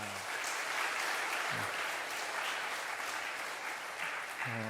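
A church congregation gives warm, steady applause for the choir and string ensemble during a Sunday morning service. The clapping is even and continuous, and fairly soft and distant.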